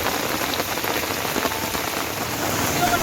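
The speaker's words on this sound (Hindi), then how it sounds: "देश की राजधानी दिल्ली में कई लोगों के लिए बारिश राहत की जगह आफत बनकर बरसी" Steady rain falls in Delhi, a dense even patter of drops on surfaces that holds constant throughout, close and moderately loud with no voices.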